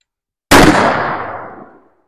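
A single loud AK rifle shot fired through a pool table at a range, a sharp close blast whose echo rings out and fades over about a second and a half, with no talking.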